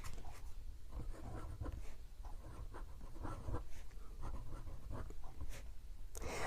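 A Platinum #3776 Century fountain pen's 14K gold medium nib scratches across paper in short strokes, a faint, dry, slightly screechy scratching sound close up with no talking.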